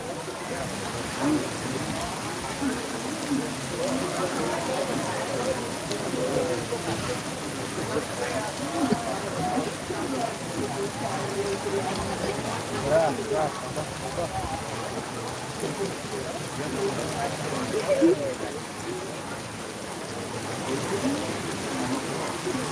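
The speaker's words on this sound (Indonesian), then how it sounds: "Situasi hujan." Rain pouring during a live-streamed Calonarang temple ceremony at Pura Penataran Sasih in Pejeng, a constant hiss of drops beneath scattered voices of people talking nearby throughout.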